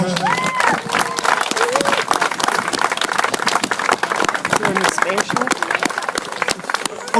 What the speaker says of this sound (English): Can I have a big round of applause for that?